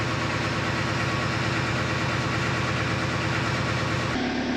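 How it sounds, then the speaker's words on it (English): A ground power unit for an F-4 Phantom idles steadily outdoors with a deep, even rumble and a constant drone, running loud and close the whole time before shifting tone briefly at the end. "that's the high pack. We got it idling outside to warm up."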